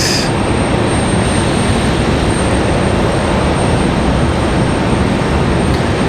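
An American Airlines Boeing 737-800 airliner arriving in from Dallas at Raleigh-Durham airport in stormy weather, its engines a loud, steady broadband roar that holds unbroken throughout, close by and with no voices.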